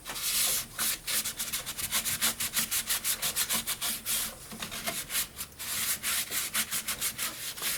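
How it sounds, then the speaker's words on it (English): Yorkshire Grit abrasive paste being rubbed onto turned Royal Poinciana wood, rhythmic back-and-forth scrubbing strokes, close and fairly loud, steady throughout with no talking. "Yorkshire grit on the inside. A little tricky to rub this stuff on the wings."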